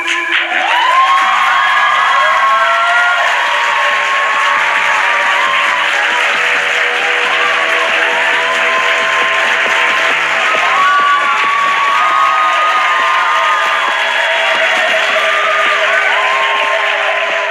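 A large crowd shouts, cheers and whoops continuously with applause mixed in, a loud sustained roar where individual voices rise and fall over the din for the whole stretch.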